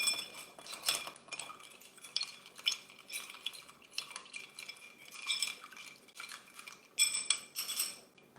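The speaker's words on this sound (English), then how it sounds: "and we just need to stir it now." A cocktail is stirred in a glass with a metal utensil, giving repeated bright clinks and rattles in irregular bursts, close and fairly quiet, with no voices.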